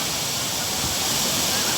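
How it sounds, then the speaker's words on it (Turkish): The Çisel waterfall in Ordu roars loudly and continuously after its flow suddenly surges, a dense, close, broadband rush of water with no pauses and faint talk lost beneath it. "Su bir anda hızlı akmaya başladı."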